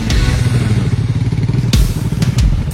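A motorcycle ridden off-road in hilly terrain, its engine chugging close by at low revs with rough clattering and a few thumps over the uneven ground.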